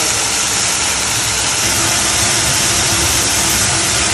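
Food fries over a full, high flame, giving a loud, unbroken hiss and roar that holds steady throughout with no voices.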